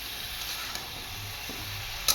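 Vegetables (ridge gourd and ash gourd) with shrimp stir-frying with turmeric in a pan: a steady, soft sizzle holds throughout, with a brief louder clink of a utensil near the end.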